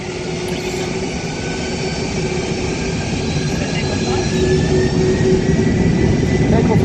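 A Boeing 747 heavy jet on its takeoff roll down runway 22 left, a loud steady rumbling roar with a rising engine whine, heard from inside the aircraft.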